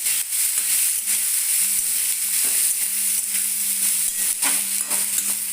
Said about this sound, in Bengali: এবার আমি এটাকে আলুর সাথে একদম সুন্দর করে এটাও লাল লাল করে ভেজে নেব